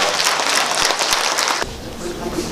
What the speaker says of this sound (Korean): 박수 한번 크게 쳐주십시오